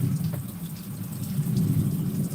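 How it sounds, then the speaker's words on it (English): Water runs steadily from a hose or pump at a gold prospecting claim, a dense, even rushing that fills the clip with no talking. "let me turn on the water here"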